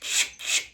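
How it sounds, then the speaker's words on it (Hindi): Forceful, rhythmic yoga pranayama breathing: two strong breath strokes, each a close, airy rush that rises and falls evenly like a saw drawn back and forth, with no talking. "इनहेलेशन एक्सहेलेशन जैसे आरी चलती है"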